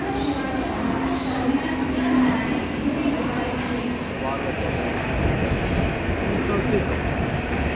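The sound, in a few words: Mumbai local train ride towards Diva station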